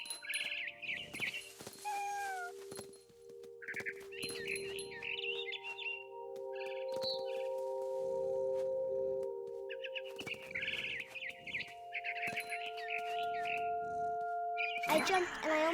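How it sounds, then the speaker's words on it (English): A frightened barn swallow in What Remains of Edith Finch chirps in repeated bursts of rapid high twittering, fairly close and clear over a sustained tonal background drone. "Then I heard chirping outside my window. It was a barn swallow going back to her nest."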